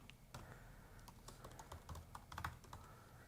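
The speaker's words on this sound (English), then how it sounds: "Then I'm going to type in a password." Typing a password on a computer keyboard: a quiet, close run of irregular key clicks and taps spread across a few seconds, with no voices.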